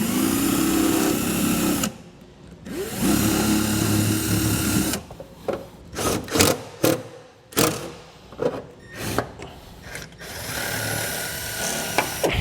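A power drill drives aluminum screws into an aluminum pickup truck bed to mount a 5th wheel/gooseneck trailer wiring connector. Two long whirring runs are followed by a series of short, sharp bursts with brief silences between them.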